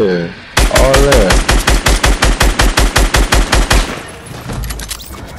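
Rapid automatic gunfire in the Fortnite video game, a loud close burst of about two dozen evenly spaced shots lasting several seconds before trailing off, with a voice briefly heard around it.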